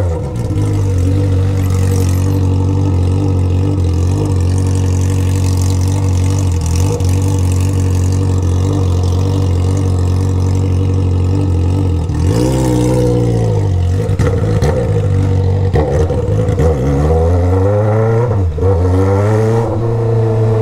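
A Honda Hornet motorcycle with a straight-pipe exhaust revs loudly and continuously, its engine note rising and falling through repeated throttle blips, close up and with no talk over it.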